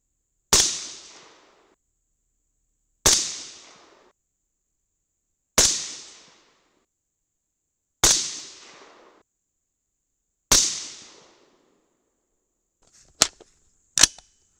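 Seven sharp rifle shots from .223 loads with CCI 400 primers, each a loud crack with a short decaying tail, five evenly spaced about 2.5 seconds apart, then two quicker, sharper reports at the end.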